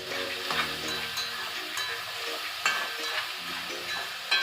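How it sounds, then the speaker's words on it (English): Ackee and saltfish frying in a pot, a continuous hiss of sizzling with occasional spoon scrapes and clinks while being stirred, close and moderate, nobody speaking. "Keep stirring it."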